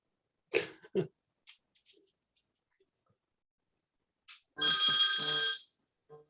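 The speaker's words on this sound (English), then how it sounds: "Oh, there's a phone ringing, see?" A telephone rings once during a planning commission meeting, a single bright ring lasting about a second, preceded by a few faint coughs and throat-clearing sounds in an otherwise quiet room.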